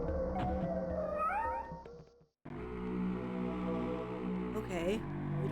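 Cat meowing in the Project Zomboid video game, with a couple of rising meows over a steady game background while a person talks.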